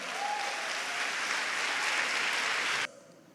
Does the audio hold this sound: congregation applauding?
yes